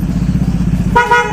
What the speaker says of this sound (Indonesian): Kita coba ke atas dulu, tes klakson standarnya.